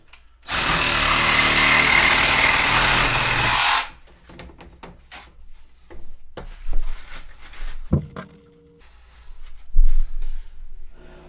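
A power saw cuts through a pump vent pipe for a residential sewage pump install, one loud continuous whine lasting a few seconds and then stopping, followed by scattered clunks and knocks of handling the pipe.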